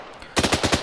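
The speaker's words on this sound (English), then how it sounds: "The hunting team knows that I'm inside one of these buildings and is therefore putting fire on that building" Suppressive automatic gunfire poured onto a building in the video game Arma 3: after a quiet moment, loud rapid bursts of shots repeat in a fast, uneven rhythm.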